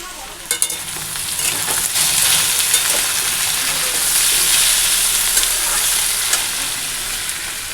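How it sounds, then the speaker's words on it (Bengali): Potatoes frying in a pan, a steady broadband sizzle with occasional stirring scrapes and clicks, close and continuous throughout with no talk. "এই যে আলু ভাজা বসিয়ে দিয়েছি"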